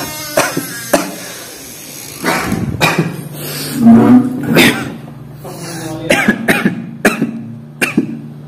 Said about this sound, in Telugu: నైట్ నుంచి జ్వరము ఇట్లా దగ్గు వస్తుంది